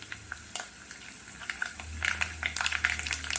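Mustard seeds, fenugreek and curry leaves fry in hot oil, giving sparse, sharp crackles and pops over a low hum, with the popping growing denser and louder in the second half.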